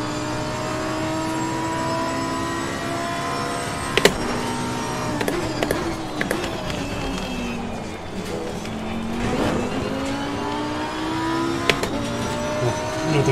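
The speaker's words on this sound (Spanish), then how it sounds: "qué chulada con los fuegos" Fireworks crackle and pop above the steady drone of a race car engine in the racing video game Assetto Corsa Competizione, driving a Lamborghini Huracán, with sharp bursts near 4, 6 and 12 seconds; no one speaks.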